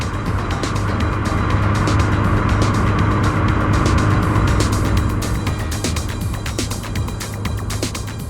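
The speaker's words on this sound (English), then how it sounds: "you see a red Peugeot traveling down the motorway at night" A red Peugeot travels down a motorway at night, a loud, steady broadband road roar and engine hum filling the whole stretch with no break and no voices.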